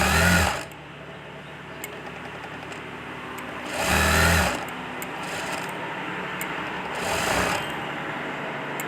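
A sewing machine stitches thread piping onto a blouse in three short bursts of whirring motor with quiet pauses between, running close and steady.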